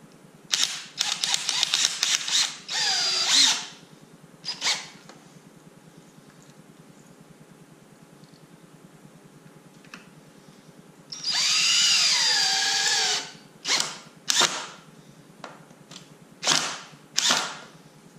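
Power drill driving screws into the wooden top of a small build, in short whirring bursts of varied length with quiet gaps between, close and fairly loud, no talking.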